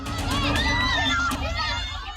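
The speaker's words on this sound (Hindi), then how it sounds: "बच्चे डर की वजह से चीख रहे हैं।" Schoolchildren inside a school van shout and scream in fear as the Bhote Koshi river floods in Nepal, a loud, dense mix of many voices.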